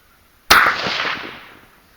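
A single sharp crack from a .223 Remington rifle with a 22-inch barrel, close and loud, trailing off in a long echoing decay over open ground.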